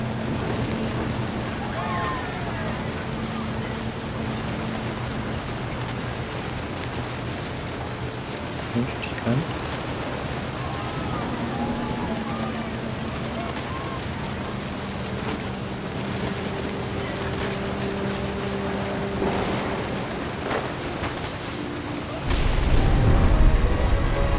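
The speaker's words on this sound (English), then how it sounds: "The thunder sounded much too close and full of angry power." Rain and thunder in the video game What Remains of Edith Finch. A constant wash of rain runs under sustained tones, and a loud rumbling surge of thunder comes near the end.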